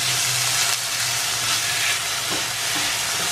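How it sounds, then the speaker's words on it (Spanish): Onion and peppers sizzle steadily in hot oil as they are sautéed for a cod and rice dish, a loud, continuous crackling hiss with no talk over it. "Y aquí vamos a sofreír la cebolla."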